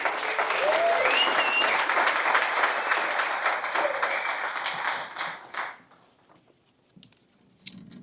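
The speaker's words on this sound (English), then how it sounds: "A round of applause, please, for Marcus Manning." A press conference audience in Durham, North Carolina claps loudly as a speaker is welcomed to the podium, dense applause that thins out after about five seconds and fades to near quiet with a few stray claps.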